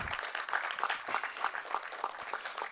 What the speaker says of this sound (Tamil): இதனால் பலத்த கரகோஷம் கொடுங்க அவருக்கு